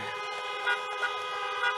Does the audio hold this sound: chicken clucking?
no